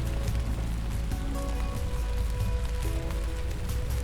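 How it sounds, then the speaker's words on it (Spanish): Heavy rain pours steadily and loudly throughout, a dense continuous wash with some faint tonal sounds mixed in underneath. "El cielo azul de la mañana es reemplazado por una lluvia fuerte."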